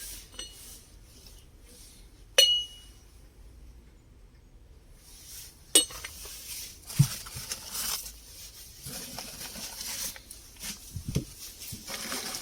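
Porcelain saucers clink a few times with sharp, isolated ringing taps amid quiet handling rustles and soft bumps.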